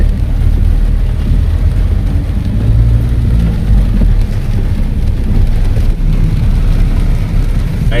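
Steady rain pours over a city street in Rajkot, a loud, continuous wash of noise with a low rumble beneath, likely passing traffic, and no voices.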